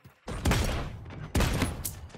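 Two bursts of rapid gunfire in the video game Realm Royale crackle in quick succession, fairly quiet and a little distant, with a pause between the volleys.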